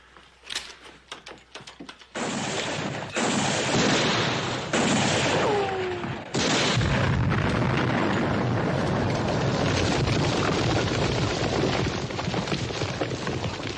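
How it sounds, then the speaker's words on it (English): Dynamite goes off in a Bonanza western action scene: a few sharp gunshot cracks lead into heavy booming blasts and a long, loud, sustained rumble of debris. "Dynamite."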